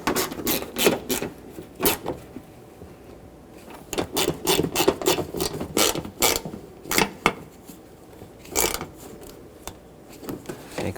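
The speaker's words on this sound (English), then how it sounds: "let's go back behind the bumper here and tighten up these two bolts that hold the fender onto" A ratchet tightens the bolts that hold a 2012-2017 Toyota Camry fender to its rear bracket, producing close, rapid bursts of dry clicking that stop briefly and start again between strokes.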